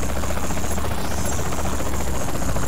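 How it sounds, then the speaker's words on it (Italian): A helicopter in the video game Saints Row: The Third Remastered gives off a loud, unbroken rotor and engine roar that holds steady throughout, with no one talking. "Quanto ci mette però a scendere sto elicottero?"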